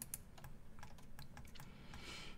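Computer keyboard keys pressed for Blender 3 shortcuts while placing a jacket pattern in edit mode: a quick, irregular run of close, crisp clicks over a steady low hum.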